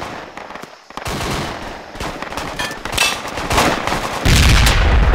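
Dense gunfire in the tactical military shooter Project Reality during a co-op match, with rapid bursts and single cracks overlapping throughout, close and loud, ending in a heavy sustained rumble.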